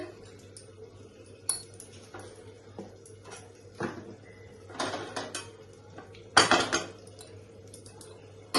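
A metal lid lifted off a cooking pot of simmering moong dal curry gives several sharp clanks and rattles, with a louder clatter near the end over a quiet kitchen background.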